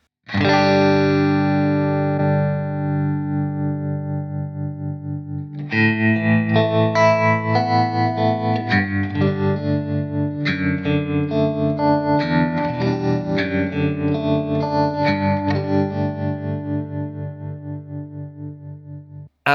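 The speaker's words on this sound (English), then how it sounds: "now let's put a tremolo in. Let's use an octo trem." A clean electric guitar through a Blackstar ID-X amp plays chords with a pulsing, wavering octo tremolo effect, steady and loud with no talking.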